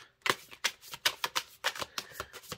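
A deck of fortune cards being shuffled by hand: a quick run of about a dozen crisp, papery riffles and slaps in uneven rhythm, close and fairly soft.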